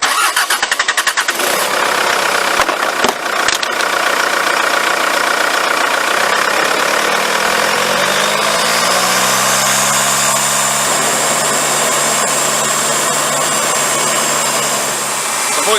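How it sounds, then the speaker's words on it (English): A Kia car engine cranks and starts, then runs steadily at raised revs around 2,500 RPM during a turbo cleaner treatment, a loud continuous hum with a rising whine, no talking. "I'll go and get my pedal depressor and start the engine and we can begin the process"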